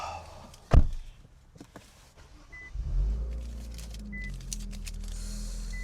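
An Infiniti Q50 with a loud full exhaust: a sharp door thud, then the engine rumbles into life with a deep, throaty low drone that holds steady as the car pulls away.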